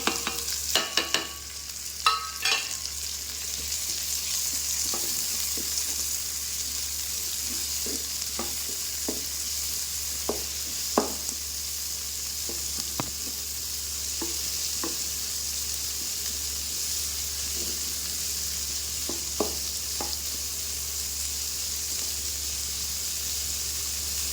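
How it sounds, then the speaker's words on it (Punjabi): Washed onions fry in a pan for a homestyle Punjabi cauliflower curry, giving a steady loud sizzle throughout with occasional clicks and scrapes from stirring, and no talking. "ਹੁਣ ਆਪਾਂ ਪਿਆਜ਼ ਜਿਹੜਾ ਵਾ ਉਹ ਆਪਾਂ ਧੋ ਕੇ ਰੱਖ ਲਿਆ ਸੀਗਾ ਤੇ ਹੁਣ ਇਹਦੇ ਵਿੱਚ ਪਾ ਦਾਂਗੇ"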